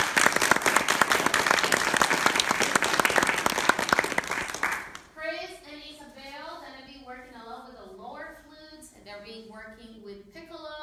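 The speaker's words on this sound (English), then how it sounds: "she deserves a big applause as well" Loud audience applause at a flute camp performance fills the first half, a dense burst of clapping that cuts off abruptly before people talk afterwards.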